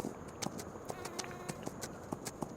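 Horse hooves clopping at a riding pace in Farming Simulator 25, a steady run of light, evenly spaced hoof strikes over a soft ambient background, with no talking.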